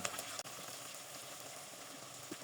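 About three tablespoons of ginger garlic paste sizzles in a pan for a Chittagong-style beef kala bhuna, a soft, steady hiss with a brief clack of stirring near the start.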